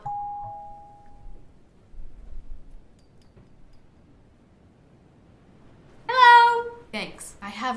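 An electronic doorbell chime rings at an apartment door (room 502) in the video game Night Delivery. A single clear, ringing tone sounds near the start and fades over about a second, followed by quiet and then a voice.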